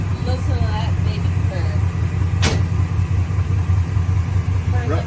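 A car engine idles with a steady, smooth low rumble close by, holding an even tone for the whole stretch while a person talks over it.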